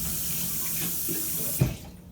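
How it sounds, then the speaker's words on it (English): Running water pours steadily from a kitchen sink tap as a utensil is rinsed, a continuous broadband splash that swells briefly near the end before tapering off, with no voices. "take a moment to wash off your utensil in your kitchen sink using running water"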